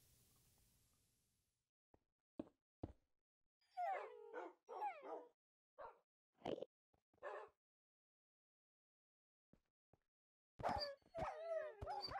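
Several dogs barking, yipping and whimpering close by in short bursts, with long quiet gaps between them and a final flurry of yips at the end.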